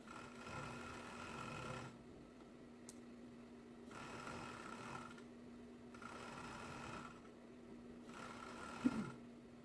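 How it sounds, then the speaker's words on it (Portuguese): Overlock serger hemming the bottom edge of a knit T-shirt: a close, steady mechanical whir in several bursts of roughly two seconds, each separated by a brief pause, with a small clunk near the end and no talking. "Agora nós vamos overlocar a barra."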